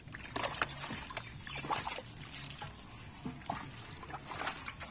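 Water splashing and sloshing as a fishing net is cast into a small village pond stocked with hybrid tilapia, with a few brief splashes and trickles up close over a low murmur.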